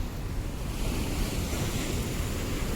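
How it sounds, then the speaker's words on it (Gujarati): Big sea waves crash and surge steadily at Mangrol port on a rainy, windy day, a dense, continuous roar of surf with strong wind buffeting the microphone and no pauses. "જો આવા મોજા આવે છે મિત્રો ઓ કેટલા ભયંકર મોજા ઓ ભાઈ"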